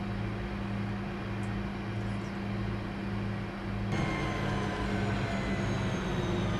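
Class 323 electric multiple unit running in Train Simulator 2021 on the Birmingham Cross City line, a steady loud rumble with tonal motor whine and hum, its character shifting partway through, with no talk.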